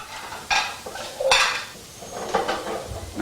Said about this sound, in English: cooking me a dish of rustic Italian trout